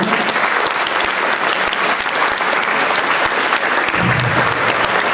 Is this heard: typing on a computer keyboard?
no